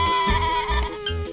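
A goat bleats in a children's farm-animal sound game, a few short wavering cries spread over under two seconds, loud and close over a steady background of tones.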